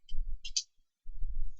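Two sharp, close computer mouse clicks in quick succession while working in Blender 2.68a, separated by short silence and framed by low rumbling handling noise before and after.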